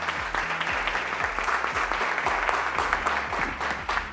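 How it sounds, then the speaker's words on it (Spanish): An audience applauds to welcome a panel of women at an innovation and intellectual property event, steady dense clapping filling the room throughout with no voices on top. "Un aplauso."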